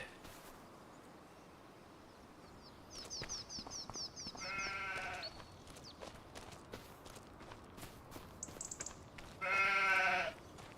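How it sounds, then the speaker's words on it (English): Sheep in the Farming Simulator 25 video game bleat in two clear bursts over steady footstep sounds and a faint outdoor background. "There we go, we've got some sheep."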